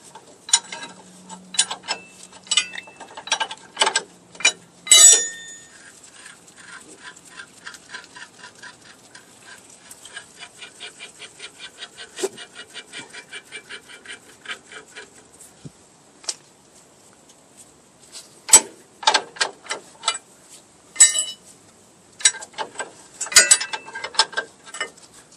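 A ratchet wrench clicks in rapid bursts while loosening 1-1/16 inch control arm bolts on a truck's front suspension, the ratcheting runs coming in several close, loud spells separated by short pauses.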